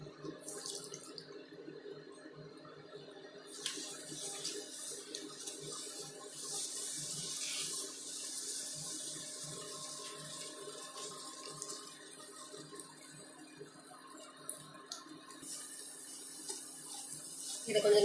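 Milk poured into a pan over a low flame for Tamil-style almond burfi (badam burfi), almonds already added: a steady liquid pour with a soft hiss, running continuously, close and fairly quiet.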